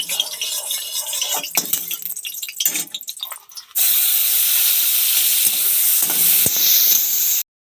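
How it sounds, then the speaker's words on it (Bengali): Prawns hit hot oil in a wok after a stretch of clinks and clatter, setting off a loud, steady sizzle that roars for several seconds and then cuts off. "কড়াইয়ে তেল দিয়েছি, এবার চিংড়ি মাছটা তেল গরম হলে চিংড়ি মাছটা দেবো।"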